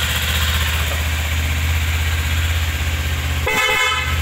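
A Honda CBR250RR motorcycle engine idles steadily, then a loud, bright blast from a snail horn cuts in briefly near the end.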